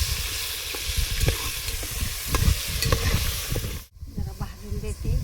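Prepared masala frying and being stirred in a pan in a village kitchen, with a steady sizzle, scraping spoon strokes and a brief pause in the middle.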